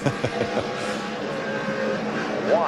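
In-car ride in Quiroga's truck during a 2014 NASCAR Camping World Truck Series race: a loud, steady engine roar with road and wind noise fills the cab continuously.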